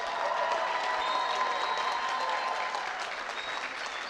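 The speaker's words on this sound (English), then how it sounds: "Let's give them a big, big, big round of applause." Crowd applause at a high school football game for North Thurston at Shelton, honoring seniors, a sustained roar of clapping with faint whistles, moderately loud and steady.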